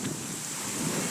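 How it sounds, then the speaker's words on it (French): Wind rushes steadily during a storm at sea off the tip of Brittany aboard a sailing boat, a broad roaring noise buffeting the microphone, loud and continuous with no voices. "Il y a du vent qui arrive."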